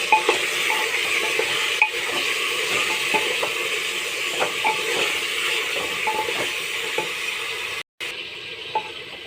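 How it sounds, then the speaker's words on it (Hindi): Onions and mutton fry in a pan for tori gosht, a continuous sizzle broken by repeated scraping stirs and light clicks of a spoon against the metal, close and steady, with a brief silent gap near the end. "अब हम इसको अच्छे से प्याज और गोश्त को अच्छे से भून लेंगे"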